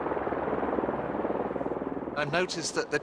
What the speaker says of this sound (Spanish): el helicóptero de Wilhelm tiene permiso para aterrizar